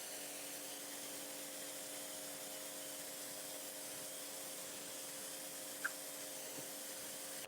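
A water rinse sprays soapy Incredible Suds car shampoo off a car's paint and crevices, a faint, even hiss that runs throughout with a low steady hum beneath and one small click near the end.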